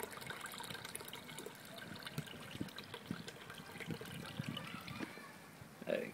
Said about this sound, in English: I can already hear it bubbling up